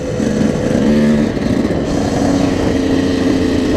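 A KTM EXC 125cc two-stroke dirt bike engine runs loud and close throughout, with a raspy, buzzing drone that holds steady and wavers slightly in pitch.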